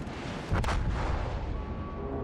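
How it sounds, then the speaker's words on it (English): Torpedoes launch from a destroyer in the naval video game World of Warships: Legends. A muffled boom hits about halfway through and then a low rumbling roar fades out, with no voices. "So we're just going to do a widespread and just hope we're going to get him with one of the last torpedoes here."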